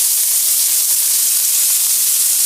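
Ground meat browning in a pan for tacos, a steady loud hiss of sizzling that stays even and unbroken throughout, close by with no talk.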